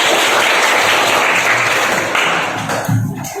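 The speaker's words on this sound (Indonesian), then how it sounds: "Keren, tepuk tangan." A classroom group applauds in a dense, steady patter of claps, loud and close, thinning slightly toward the end.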